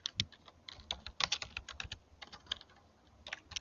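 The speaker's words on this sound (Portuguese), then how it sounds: "Átila, só digitar aqui, ó." Typing on a computer keyboard to enter a search, heard as close, irregular bursts of key clicks with brief pauses between runs, with no voices.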